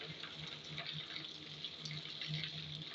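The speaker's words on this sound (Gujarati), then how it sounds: "એવો વરસાદ પડી રહ્યો છે" Steady rainfall hisses continuously, an even wash of falling water with no voices.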